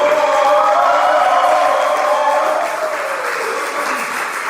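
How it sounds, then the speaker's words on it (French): A church congregation applauds and cheers the Lord during a worship service, a sustained, fairly loud crowd roar of clapping with a sung or shouted vocal line running through it, gradually tapering off. "Acclamons très fort le Seigneur."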